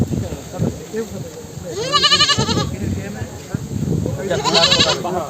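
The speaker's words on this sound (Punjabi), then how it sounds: "ਲਓ ਜੀ ਆ ਬੱਕਰਾ ਹੈ" A goat bleats twice, loud and close, with wavering cries at a busy livestock market while people talk over a steady crowd din.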